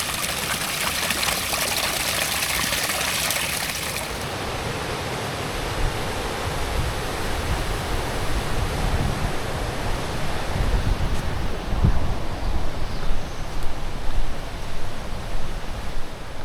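Two mountain streams meeting at a small waterfall on the Appalachian Trail, a continuous rushing, splashing flow heard close and steady throughout, with no voices.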